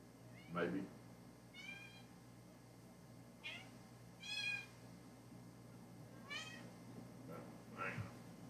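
A cat meows several times at irregular intervals, short plaintive calls that vary in loudness, heard nearby in an otherwise quiet room.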